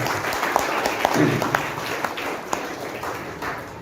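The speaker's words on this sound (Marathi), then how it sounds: "आज हा क्षण असा आहे की या ठिकाणी या टाळ्या त्यांच्या कानात आयुष्यभर गुंजत राहिल्या पाहिजेत" Audience clapping at a Marathi poetry collection launch, a steady ripple of applause from a room full of people with sharper individual claps standing out.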